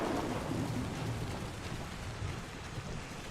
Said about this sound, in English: It is raining so freaking hard I can barely see 5 feet in front of my face.